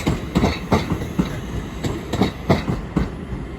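A train rolls through Crewe station on the West Coast Main Line, its wheels beating out a rhythmic clickety-clack over rail joints, loud and close with regular repeating thumps.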